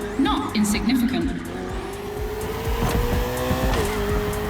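Race car engine in The Crew Motorfest drones with shifting pitch and squealing tires, staying loud and continuous while a voice talks over it.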